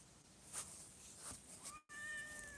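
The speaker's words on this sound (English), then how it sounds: "Oh, there's one of the neighbor's cats, a black cat down there." A black cat outdoors meows once, faintly and at a distance, against a steady background hum of ambience.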